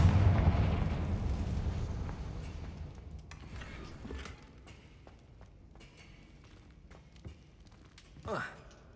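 A Confringo fire spell explosion in Hogwarts Legacy, a loud rumbling blast at the start that fades over a few seconds, followed by quieter scattered game sounds and a short swoosh near the end.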